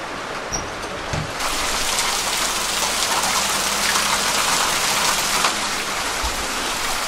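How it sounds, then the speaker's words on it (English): Hail patters and hisses steadily on surfaces outdoors in Los Angeles, a dense crackling wash that grows louder after a second and stays constant. "legit hailing in Los Angeles, no lie"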